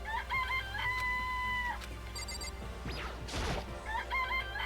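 A chicken in the Danganronpa video game clucks and crows in rhythmic bursts, mixed with a sustained electronic tone, a crash-like noise and a swooping effect before the clucking returns.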